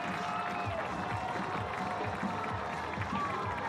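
Sweltering home stadium crowd at a Huntsville City FC soccer match roars steadily after a goal, a dense, sustained wall of cheering with a commentator talking over it.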